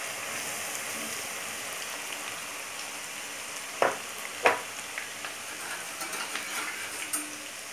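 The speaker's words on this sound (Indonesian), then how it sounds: "Nah, tempenya akan aku goreng dulu." Tempeh sizzles in hot oil for Indonesian orek tempe, a steady close crackling hiss with a few louder pops and splatters partway through, and no talking.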